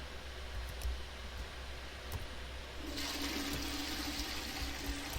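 A toilet in the Hogwarts Legacy video game flushes. Steady hiss turns into a louder rushing surge of water about halfway through, continuing evenly to the end without talk.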